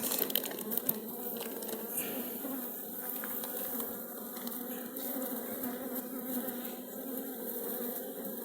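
A soft, continuous hum of honey bees comes from an open hive whose frames hold brood, honey and packed pollen, the buzzing steady and fairly faint throughout.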